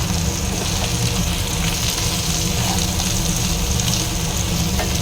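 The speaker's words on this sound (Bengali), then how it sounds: "সমস্ত ঝিঙে দিয়ে ভালো করে ফ্রাই করে ওর মধ্যে একটুখানি লবণ দিই।" Ridge gourd frying in a pan with a little salt: a continuous, even sizzle and crackle of oil, close and steady, with faint stirring clicks and no talking.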